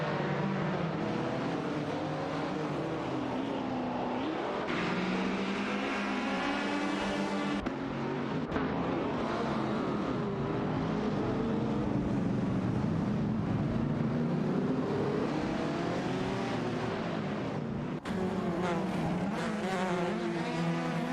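Race car engines in a video game, including a Toyota Celica and a Fiat X19, roar continuously and loudly, with rising and falling engine pitch and abrupt shifts as cars jostle for position.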